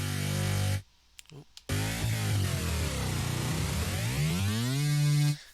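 A thick, buzzy synthesized neurobass note made in the Vital synth sweeps and glides in pitch, dropping low then rising again, after a brief pause with a couple of clicks.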